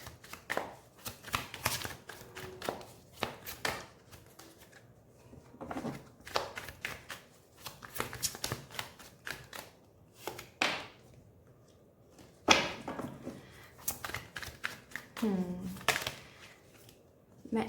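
Tarot cards shuffled and tapped by hand in irregular bursts of crisp riffling and soft clacks, close and fairly quiet, separated by short pauses, with someone speaking briefly between them.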